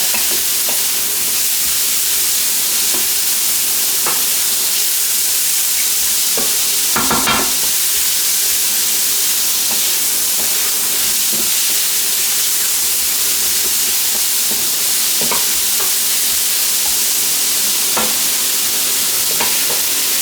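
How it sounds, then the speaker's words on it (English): Cut shiitake mushrooms and aromatics are stir fried in a wok for a vegetarian Chinese dish, giving a loud continuous sizzle and hiss with occasional sharper clatters of stirring. "Also dump in our shiitake mushrooms, the cut up ones. Give it a good stir fry."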